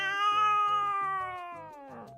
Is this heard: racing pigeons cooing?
no